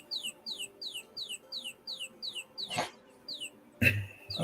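A toy chicken gives a quick run of regular, identical high chirps, about four each second, followed by a couple of louder rough clunks as it is handled, close by and otherwise quiet.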